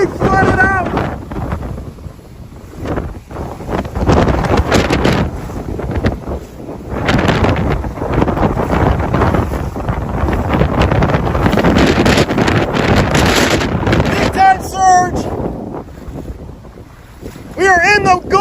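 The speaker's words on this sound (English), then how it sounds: "getting hammered by 80-mile-per-hour plus gusts at times" Heavy, roaring storm wind gusts of over 80 mph buffet the microphone continuously in flooded Punta Gorda, Florida, with surging blasts and a wash of water noise, occasional voices faintly underneath.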